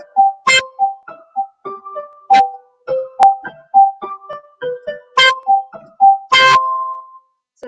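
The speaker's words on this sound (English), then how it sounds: "so high sounding notes maybe sound like this" Bright, tinkling high-pitched notes played on an instrument in a slow melodic line, with a few sharp accented strikes ringing out among softer single tones, no voices.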